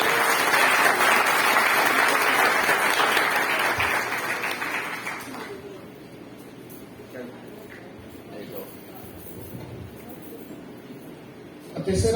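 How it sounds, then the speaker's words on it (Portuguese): An audience at a pro-life symposium applauds loudly for several seconds, then the clapping fades into quiet room murmur and shuffling, with a brief burst of noise at the very end. "Podemos agradecer com a salva de palmas."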